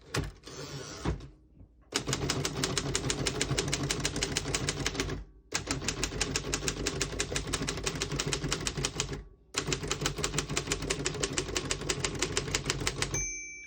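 Rapid, close mechanical clacking of a 1950 Royal KMG manual desktop typewriter in long bursts with brief pauses, ending with a single ring of the margin bell.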